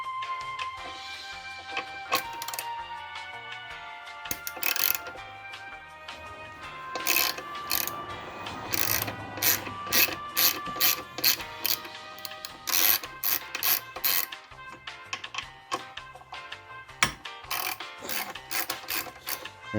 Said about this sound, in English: we can go ahead and remove the two 12mm bolts that hold the caliper onto the fork